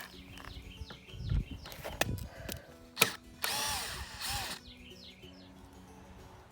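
A power drill rescrews a batter board while building a barn, with a short loud whir around a second long, close by, amid outdoor rustling and chirping birds.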